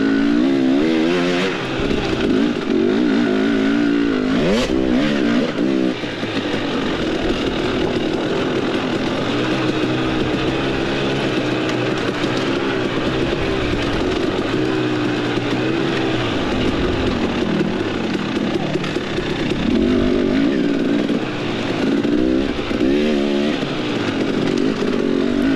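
A motocross dirt bike engine revs hard on a hill climb at a Moonshine Holler cross-country race in Cadiz, Kentucky, a continuous loud buzzing drone with rising and falling pitch as the throttle varies, close to the rider throughout.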